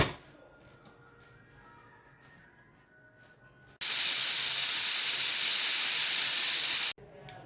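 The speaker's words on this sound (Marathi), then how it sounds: "नंतर मिक्स केल्यानंतर झाकण लावून एक शिट्टी होऊ द्यायची कुकरला" A kitchen pressure cooker cooking chicken paneer biryani lets out one loud, continuous steam whistle-hiss lasting about three seconds, then cuts off sharply after a quieter stretch of low kitchen background.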